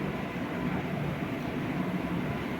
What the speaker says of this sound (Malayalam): അടുത്ത ട്രെയിൻ വന്നിട്ടുണ്ട്